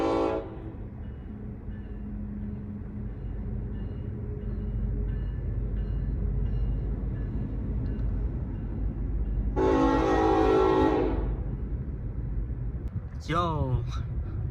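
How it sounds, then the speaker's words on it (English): A long train rolls past in a Colorado town with a steady rumble and rattle throughout, a horn blast sounding partway through, while a person talks nearby. "This train has legit been going for like 10 minutes straight."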